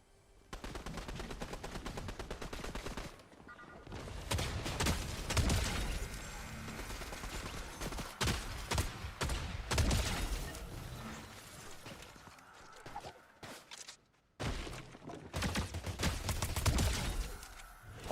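Repeated bursts of gunfire in Fortnite, loud rapid rattling volleys separated by brief pauses, with some mechanical clicks and faint talk in the background.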